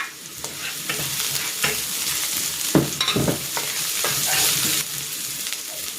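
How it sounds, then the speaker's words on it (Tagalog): Garlic and onion sautéing in a pan, with a constant hiss of frying broken by scraping and stirring strokes of a utensil; no talking. "Igisa ko na rin dito itong bawang. At itong sibuyas."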